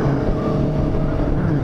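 A motorcycle group ride rolls past, a dense, loud engine drone that stays steady and close for a brief moment, with no pauses between bikes.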